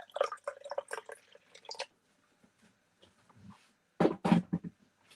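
Hot water from a pre-boiled kettle pours into a coffee mug over instant coffee granules, a short liquid splash and trickle heard close up after some brief clinks and handling.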